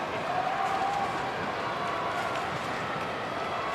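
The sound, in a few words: vocal Giants crowd at AFL match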